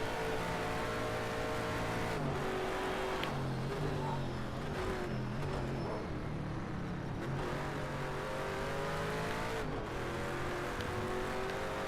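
Race car engine droning steadily through a cooldown lap in a racing video game, pitch rising and falling with gear shifts, loud and continuous with no talking.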